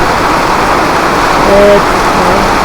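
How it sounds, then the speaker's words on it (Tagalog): Dense, steady hiss of heavy rain pouring down throughout, with a faint tonal sound briefly cutting through midway. "Lakas ng ulan."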